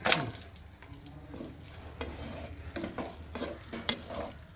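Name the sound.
mutton and boiled potatoes sautéing in a pan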